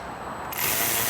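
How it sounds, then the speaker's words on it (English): A power ratchet loosens the clutch cover fasteners on a Vespa smallframe scooter, a steady close whirring hiss starting abruptly midway and running to the end. "I have a power ratchet, makes the job a little easier."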